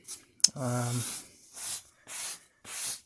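Several short, soft brushing rubs across the fabric of a black jacket to lift small hairs and fuzz, each stroke a brief hissy swish separated by quiet gaps, with a brief voiced sound near the start.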